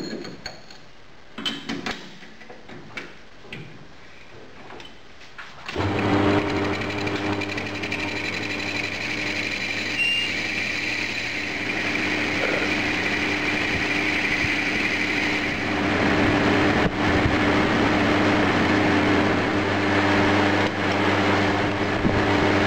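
A metal adapter plate for a cast iron light stand is machined; after a few clanks of setup, a motor starts and runs with a steady loud hum and cutting whine for the rest of the stretch.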